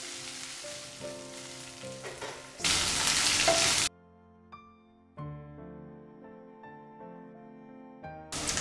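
Mixed vegetables with green beans, ginger, chilli and garlic stir-frying in a pan, a steady close sizzle with a loud burst of spitting hiss midway, then quieter crackling and stirring clatter.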